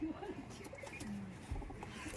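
Teddy pigeons, a high-flying fancy breed kept in Murshidabad, give soft low coos and murmurs at close range, faint and intermittent against a quiet background.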